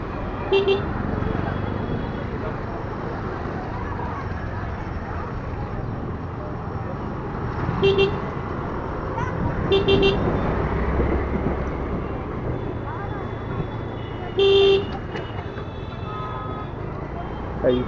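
Car horns honk repeatedly in busy roadway traffic, short toots scattered over a steady roar of engines and street noise, with the louder blasts standing out near the middle and end.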